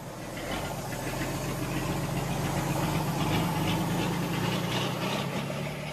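A stripped-down vehicle with only chassis and motor, no body panels or plates, runs on the Transamazônica in Brazil, its engine chugging and knocking with a constant loud, rough drone that fills the whole stretch without any voices.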